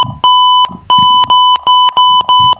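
An IoT car parking sensor gives loud, piercing electronic beeps, at first spaced apart and then coming in quicker, shorter pulses as the gaps close, with faint low knocks between tones.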